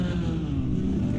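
Race cars at the Zandvoort Grand Prix give off a continuous low engine drone that sits close and steady throughout, with no talk.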